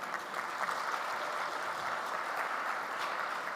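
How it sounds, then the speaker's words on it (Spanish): An audience at a formal regional report presentation applauds steadily for a few seconds, a dense even wash of clapping heard from within the room at moderate level. "Un aplauso, por favor."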